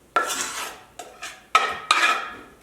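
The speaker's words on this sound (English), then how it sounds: "As I mix, I am still pushing the fork down to make any chunks that are in here more fine and small" A fork scrapes and clinks against a bowl while mixing and mashing deviled egg filling with bacon, in a few close, scratchy strokes with sharp metallic taps and no voices.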